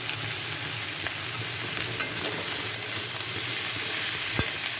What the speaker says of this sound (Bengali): লবণ হলুদ দিয়ে ভালো মতো এটাকে একটু ভেজে নিতে হবে